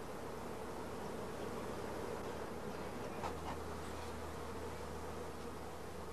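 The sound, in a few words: honey bees buzzing on hive frames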